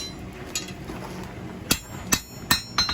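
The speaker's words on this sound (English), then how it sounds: "A few more taps. Just fullering in a groove." A blacksmith's hammer strikes hot steel on an anvil while fullering a groove for a fireplace poker: one faint tap, then four sharp metallic taps in quick succession, close and ringing over low workshop noise.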